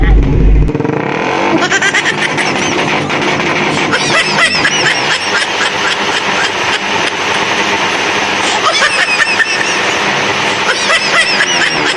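A voice mimics a revving motorcycle engine, a loud, continuous buzzing drone held for about twelve seconds with wavering pitch, close to the microphone and heard alone.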